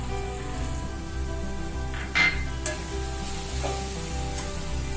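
Masala of roasted whole spices, coconut and cashews frying in a pan for Malwani sukka chicken, a continuous close sizzle with a few sharp clinks and scrapes of stirring.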